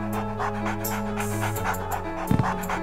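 A dog panting in the Reel Fishing III fishing game, a steady rhythmic breathing loop heard close, with a brief louder bark-like burst near the end over a constant game background.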